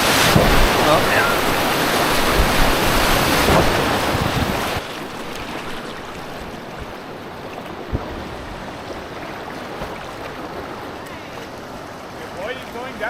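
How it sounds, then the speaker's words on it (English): Whitewater rushes down a giant waterfall on the Rivière Noire, a loud, dense roar of churning water for several seconds before dropping to a quieter, steady river rush. "you're going down a giant waterfall."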